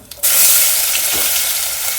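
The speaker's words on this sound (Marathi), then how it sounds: "कांदा हलकासा परतून घ्यायचा आपल्याला" Chopped onion dropped into hot oil with cumin and asafoetida erupts into a loud, sudden hiss that settles into a steady close sizzle.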